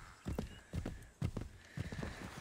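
Horse hooves in Assassin's Creed 3 clopping in a few uneven, close thuds spaced about half a second apart, with no voices over them.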